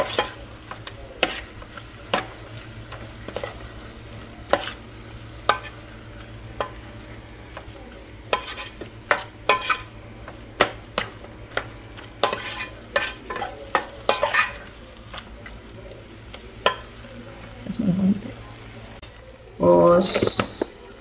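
Kimchi stew with chili paste stirred in a pot, bursts of spoon scraping and light clinks repeating over a quiet bubbling simmer, close up, with a louder clatter near the end and no speech.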